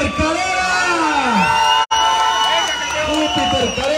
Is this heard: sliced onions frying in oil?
no